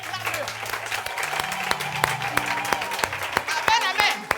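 A church congregation at a Sunday service applauds to acclaim the Lord, a rolling wave of many hands clapping with sharper individual claps, while a preacher's voice and other voices carry over it.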